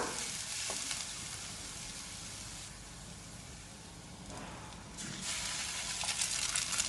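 Beaten egg sizzling in a frying pan with softened vegetables, a steady crackling hiss that swells and eases slightly as it is stirred, close and without talk.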